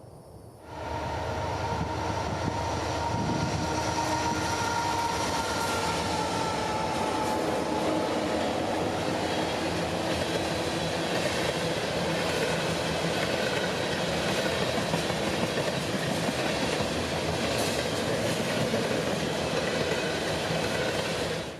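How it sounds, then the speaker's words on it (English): A CSX ethanol unit train of 100 loads, led by two Union Pacific locomotives including UP6949, rolls past in a loud, continuous roar of engines and wheels that holds steady for the whole stretch. "2 Union Pacifics pulling 100 loads of Tampa ethanol"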